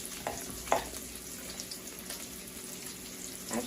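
Bacon sizzling in a pan with onions and tomatoes, a soft, steady frying hiss with a couple of brief clinks and stirring clatters, no talking.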